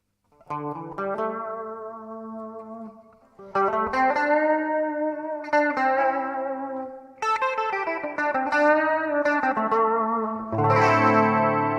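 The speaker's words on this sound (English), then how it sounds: "So that's my guitar sound." Electric guitar played through effects, a run of sustained chords and single notes with distortion, chorus and echo, loud and close with short pauses between phrases and a thick, layered tone at the end.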